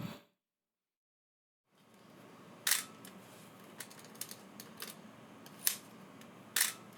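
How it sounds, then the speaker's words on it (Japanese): Pentax SP film camera fitted with a Super Takumar 50mm f/1.8 lens, a sharp mechanical shutter click after a silent gap, followed by several softer clicks and handling taps against a faint hiss. "シャッターを切ります。"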